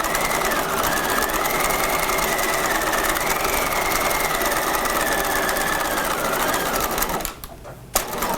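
A sewing machine stay stitches fabric along a 1/2 inch seam allowance, running fast and loud without pause for about seven seconds, then stopping briefly before starting again.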